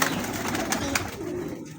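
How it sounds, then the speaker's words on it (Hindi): Kalatu pigeons cooing in a loft, soft low throaty coos repeating over a steady background of bird sounds, close and moderately loud, without talk. "बटेरे कबूतर हैं जी, कलाटू बोल रहे हैं"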